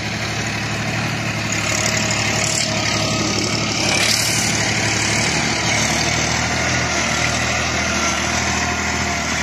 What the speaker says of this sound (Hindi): अब ट्रैक्टर की खिंचाई देखियो इसकी टीलर की।